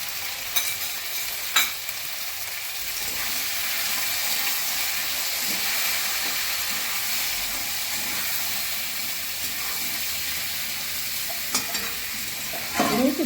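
Vegetables with green chillies, turmeric and salt sizzle and fry steadily in a pan for a fish curry, with a few sharp scraping stirs of a spatula now and then over the continuous hiss.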